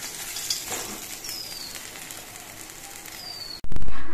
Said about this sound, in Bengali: আমি সবগুলো মাছই ভেজে নিচ্ছি।